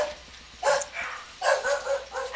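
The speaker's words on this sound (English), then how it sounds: "And there go my dogs." Several dogs bark in two bursts, a sharp cluster early on and a longer run of barks after a pause, moderately close and alone without talk.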